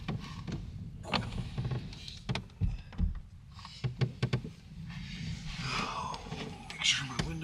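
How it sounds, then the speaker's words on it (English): Electric power windows on a camping truck closing at night as rain starts, short motorized whirs and thumps mixed with soft handling noises and quiet speech. "Make sure my windows are closed."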